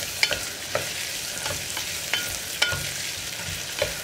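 Chopped onions stirred in an open pressure cooker, a soft continuous sizzle broken by regular spoon scrapes and taps against the metal, close and steady with no voices.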